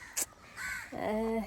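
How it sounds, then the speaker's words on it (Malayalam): A few crow caws ring out nearby, a short sharp call followed by longer harsh, nasal cries, with faint background hum. "കാക്കയൊക്കെ കരയുന്നു"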